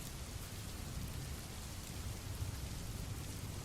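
Steady rain falls in a soft, even hiss with a low rumbling undertone, faint and continuous throughout.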